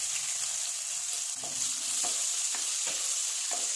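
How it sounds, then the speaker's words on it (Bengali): Chopped onion frying in hot oil spiced with whole garam masala, dried red chilli and panch phoron, a steady close sizzle with a few soft spoon scrapes while stirring. "পেঁয়াজটা একটু ভালো করে কষিয়ে নেবো"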